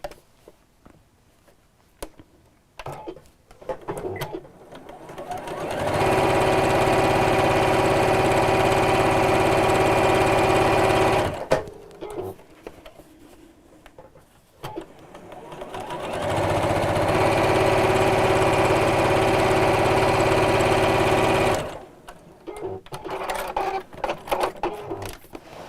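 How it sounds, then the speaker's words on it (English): A sewing machine stitches along each side of a seam on a drawstring pouch, running in two long, steady, loud whirring bursts of about five seconds each, with quieter handling noise before, between and after them. "just sew along each side of the seam"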